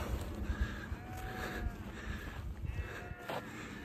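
Sheep on a mountainside at 12,000 feet give faint, scattered bleats over steady outdoor noise and low thumps, several calls spread across the moment at a distance.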